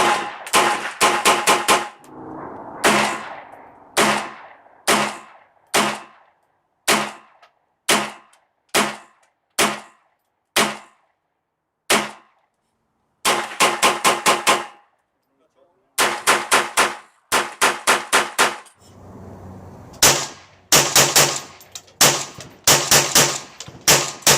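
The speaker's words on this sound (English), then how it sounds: "This gun is a lot of fun to shoot." Sharp, loud gunshots from a 17 HMR AR15 prototype rifle, fired close in steady single shots and quick strings of rapid fire over about twenty seconds, each crack followed by a short ringing decay.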